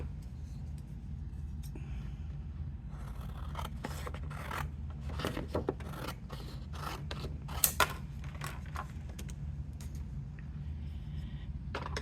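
Scissors cut through a sheet of paper while a stamped card is being made, giving a close, fairly quiet series of crisp snips and rasping slices spread unevenly over the stretch, with no speech.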